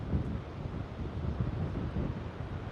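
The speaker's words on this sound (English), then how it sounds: "Feel that ocean breeze." Seaside wind on the San Diego oceanfront buffets the microphone in low, steady gusts, a muffled rumble with faint surf-like wash beneath and no voices.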